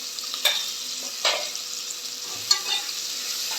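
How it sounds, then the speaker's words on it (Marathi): Carrot slices, peas and chopped spinach sauté in a pan, a soft steady sizzle punctuated by a few distinct scraping stirs and a light knock, close up with no talking. "भाज्या सगळ्या परतून घ्यायच्या"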